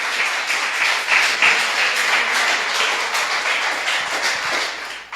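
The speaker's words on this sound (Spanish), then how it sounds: "Dale un aplauso al Señor" A church congregation claps together during a Sunday service, a dense, steady wash of applause that stays loud throughout before stopping abruptly at the end.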